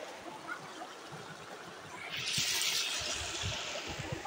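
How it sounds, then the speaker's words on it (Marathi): A small stream trickles through the Konkan countryside, a soft, close watery babble that rises and brightens partway through, with no talk over it. "असे परे छोटे छोटे धबधबे वगैरे असतात, त्यातलाच हा एक पर्या आहे"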